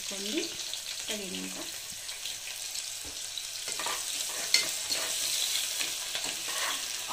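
Onions frying in oil for a simple Telugu-style chicken curry, with a steady close sizzle and intermittent stirring scrapes running throughout.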